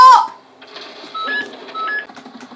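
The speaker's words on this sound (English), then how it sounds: "if you heard that noise, it was my phone" A mobile phone sounds off during a GTA 5 gaming session, giving a short electronic chirp and beep tones with a few brief tonal blips over quiet game audio, fairly close to the microphone.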